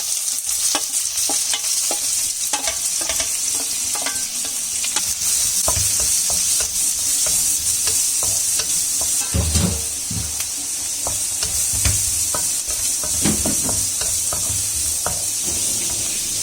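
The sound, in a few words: onions frying with mustard seeds and cumin, sizzling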